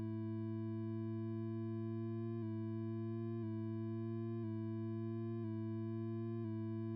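Sustained buzzy synth tone from Ableton Operator, modulated by a saw-up LFO, repeating a ramping cycle roughly once per second, steady and alone with no voices.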